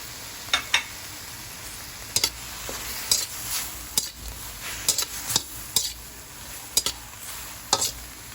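Chicken sizzles in a pan for bihon noodles, a steady frying hiss broken by sharp repeated clinks and scrapes of a utensil stirring against the metal, close and clear with no talking.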